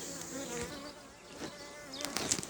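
Honey bees at an opened beehive during a spring inspection, a close, steady buzzing hum with wingbeat tones, plus a few clicks and knocks from the hive.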